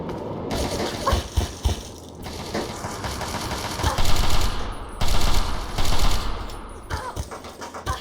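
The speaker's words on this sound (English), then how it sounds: "where's that guy shooting me from?" Enemy gunfire in the Fallout 3 video game: repeated automatic bursts and sharp single shots, fairly close and loud, coming in clusters with short pauses.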